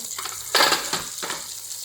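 Mung bean pithe dumplings drop into hot oil over a medium-low gas flame, giving a steady close sizzle with a few louder bursts of crackling and spatter.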